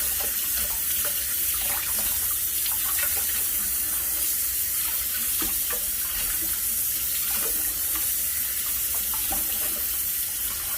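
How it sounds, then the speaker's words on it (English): Tap water runs steadily over a fresh carp fillet being rinsed in a sink, a continuous close splashing rush with no talking. "just make sure you rinse it off."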